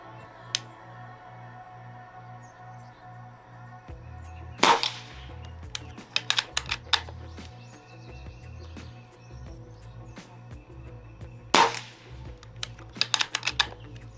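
Two air guns, a .25 and a .22 caliber, fire a few sharp shots several seconds apart, each followed by quick mechanical clicks, close by and without talk.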